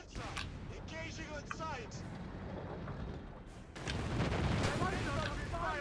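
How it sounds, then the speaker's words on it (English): An infantry support gun firing in a Company of Heroes 3 battle, with deep booms and scattered gunfire in a busy combat mix that swells louder toward the end, under speech. "the infantry support gun is also chipping in"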